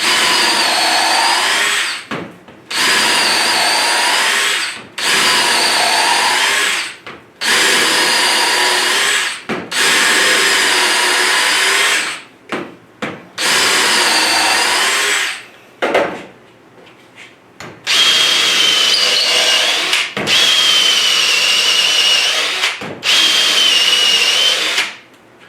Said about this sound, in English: Let's put on the 8 amp hour battery and start drilling.